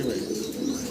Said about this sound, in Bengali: লং ফেস কবুতর মাশাআল্লাহ, 2 ডিম কমপ্লিট করা।